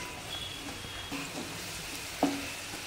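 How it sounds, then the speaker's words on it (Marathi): Roasted eggplant being stirred into a hot pan for Khandeshi-style bharit, giving a steady soft sizzle with faint stirring scrapes and one brief louder clink near the end. "तर आता हे छान असं परतलं की आपण त्याच्यामध्ये जी वांगी भाजून घेतलेली आहेत ती वांगी आपण त्याच्यामध्ये घालून घेणार आहोत"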